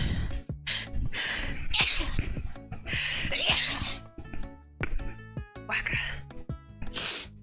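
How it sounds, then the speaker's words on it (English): A person builds up with gasping breaths and lets out several loud, exaggerated sneezes in bursts, with breathy snorts in between. "I'm gonna have the biggest dad sneeze"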